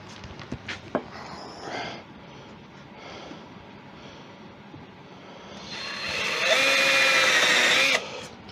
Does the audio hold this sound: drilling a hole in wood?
yes